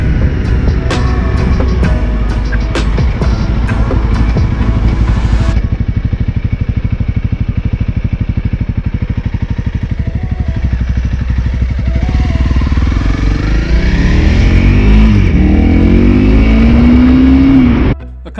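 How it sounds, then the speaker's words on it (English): Honda CRF 300L dual-sport motorcycle accelerating up to highway speed, its engine loud and close with rising revs through gear changes and steady heavy wind rush, ending in a sharp climb near the end. "we're gonna take the bike up here. We're gonna get it up to speed, 60 plus miles an hour,"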